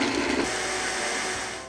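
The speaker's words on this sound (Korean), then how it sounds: "믹서기에 양파, 마늘," A kitchen blender grinds onion and garlic into a fine paste, a loud steady motorized whir held for the whole short stretch with no talking.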